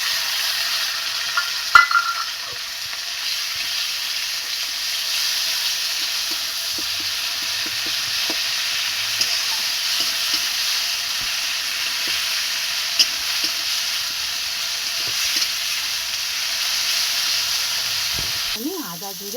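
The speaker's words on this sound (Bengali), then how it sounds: "এবার আমি পেঁয়াজের সাথে এই যে গাঁদাল পাতাটা আছে এইটা আমি ভেজে নেব।" Gandal leaves fry with onion in a hot pan, giving a continuous, even sizzle that holds steady close by, with a few faint stirring ticks.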